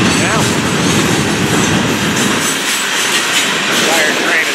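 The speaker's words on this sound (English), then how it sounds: "Entire train is a rock job." A long freight train of loaded rock hopper cars on a Florida East Coast line rolls steadily past at close range, a loud continuous rumble with clickety-clack of wheels and faint squeals.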